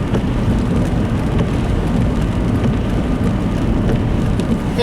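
Steady rain on a cloudy, nasty day, a dense continuous hiss and rumble filling the whole stretch, loud and even with no pauses or voices.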